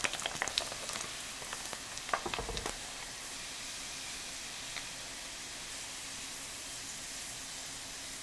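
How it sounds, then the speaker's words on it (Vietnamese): Pork slices frying in hot oil, a steady bright sizzle with a few crackling pops at the start, close and continuous with no talk. "Dầu nóng rồi thì mình cho thịt heo vào chiên nè."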